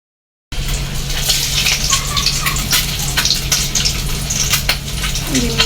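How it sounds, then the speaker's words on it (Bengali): Halved boiled eggs fry in a pan of hot oil for a Bengali egg and potato curry, giving a loud, steady sizzle and crackle close up, with faint clinks. "সবগুলাকে ভেজে নিচ্ছে।"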